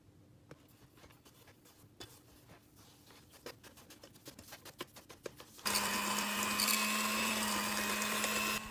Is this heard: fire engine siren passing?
no